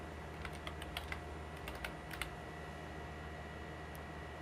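Brief burst of typing on a computer keyboard, a quick run of light key clicks over about two seconds, then fading into a faint steady room hum.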